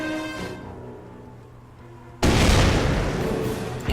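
Mortar team firing on a building during a World War II battle in Company of Heroes: after a fading tonal ring, a sudden loud blast cuts in and leaves a heavy, sustained rumble of battle noise.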